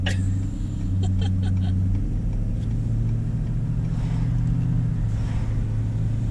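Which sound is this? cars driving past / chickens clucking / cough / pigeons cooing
cars driving past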